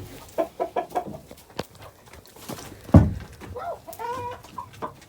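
Hens and a rooster in a farmyard hen coop clucking and calling in short bursts, one louder squawk near the middle, with faint footsteps and movement around them; no speech.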